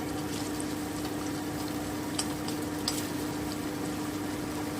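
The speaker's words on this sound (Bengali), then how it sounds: "এইভাবে আমি সবগুলো মাছকে উল্টে দেবো আমার কিন্তু মাছগুলো ভাজা হয়ে গেল" Katla fish pieces fry in hot oil in a pan, giving a steady, close, continuous sizzle and crackle with a few sharper pops and no talking.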